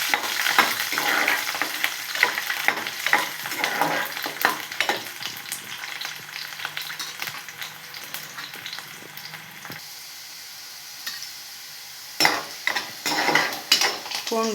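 Garlic frying in sesame oil, a steady crackling sizzle broken by frequent scraping stir strokes against the pan, fairly close, with a brief quieter lull before the stirring picks up again.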